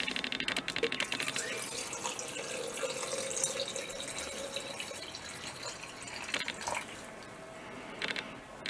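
Water pours and splashes steadily into the plastic drum of a rotary tumbler used for cleaning ammunition cases, filling it to about a third. The pour is close and continuous, with clicks and clatters throughout.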